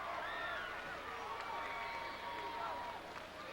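Basketball fans cheer and applaud in a gym after Beckley High School wins the title, a steady crowd roar with whistles, while an announcer talks over it.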